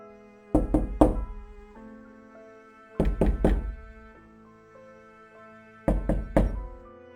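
Three separate bursts of knocking on a door, each made of three or four solid thuds, spaced a few seconds apart over a faint sustained tone, close and clear.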